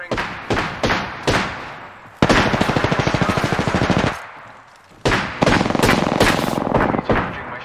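Rapid bursts of automatic gunfire in the Apex Legends video game, several loud close volleys separated by brief pauses, with one long sustained stream of shots in the middle.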